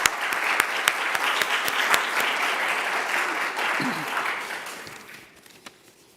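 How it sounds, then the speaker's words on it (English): Steady applause from an audience at an evening awards ceremony for public-radio reporting, sustained for several seconds before thinning out and fading near the end. "Let's give Hannah one more round of applause"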